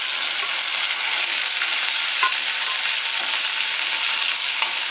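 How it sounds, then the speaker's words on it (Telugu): Okra pieces salted and frying in a pan, giving a steady close sizzle with occasional faint scrapes of stirring and no voices. "ఇవి ఇలా ఫ్రై చేసుకోవాలి."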